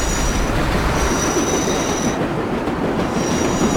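A New York Flushing Line 7 subway train in World of Subways 4 rolls along steadily with a continuous loud rumble and thin high wheel squeal, no voices over it.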